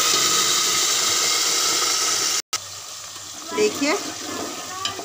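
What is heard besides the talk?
mutton pieces frying in hot oil with cumin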